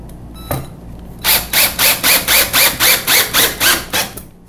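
A power drill drives a 2.5 inch screw into wood in a workshop, sounding as a rapid series of about a dozen evenly spaced loud ratcheting bursts after a brief click.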